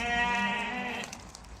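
A single breeding lamb of the Tatalilar sheep breed bleats nearby, one drawn-out, wavering bleat fading after about a second, faint and without talk.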